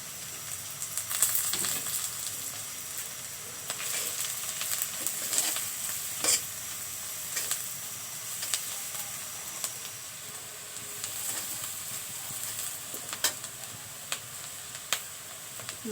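Salt, ground cumin, turmeric and dried chilli powder sizzle in hot oil in a pan for a spinach and new potato curry, a steady soft frying hiss broken by scattered stirring clicks, close and alone.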